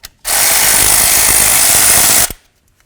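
A power tool whirs loudly and continuously for about two seconds while removing the ABS wire bolt on a Ford F250 wheel hub, with brief clicks just before and after.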